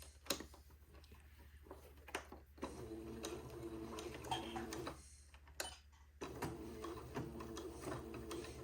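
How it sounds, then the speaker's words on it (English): A sewing machine runs a straight stitch through dress fabric along an entredeux seam with ribbon beading, giving a steady, quiet mechanical ticking and whirring with a few brief pauses and louder clicks, and no talking. "with a straight stitch, I'm going to sew right to the right of that entredeux seam."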